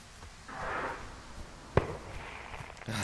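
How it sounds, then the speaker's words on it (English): A firework in the video game Firewatch gives a swelling whoosh that rises and fades, then one sharp bang rings out, followed by a quieter crackle. "They have a lot of fireworks,"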